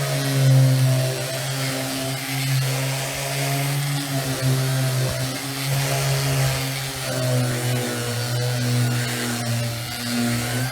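An orbital sander held flat on a surface with a vacuum attached drones steadily for the whole stretch, a loud, even motor hum with a rough grinding hiss above it, close, no talking.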